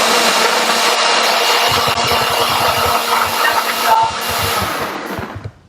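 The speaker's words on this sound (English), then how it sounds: "she wrecked our blender, Alan." A loud, harsh motorized whirring runs continuously, grinding and rattling as it goes, then winds down and stops at the end.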